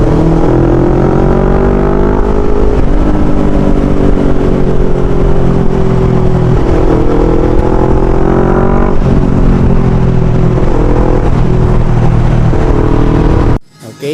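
A retuned, remapped NK400 motorcycle engine revving loudly and close by, its pitch repeatedly rising and falling over a steady running note before cutting off abruptly at the end.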